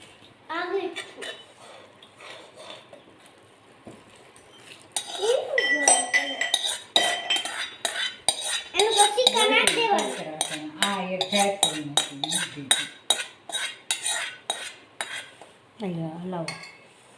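Ghee and jaggery syrup stirred into crumbled muthiya for traditional Gujarati ladu, with a spoon clinking and scraping a pot in uneven strokes while people talk throughout.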